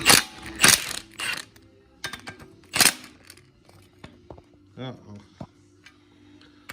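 Bolts come off the cylinder heads of an 87-93 Mustang 5.0 V8 in a series of close metallic ratchet clicks, taps and clanks of tools and parts, with quiet gaps between bursts.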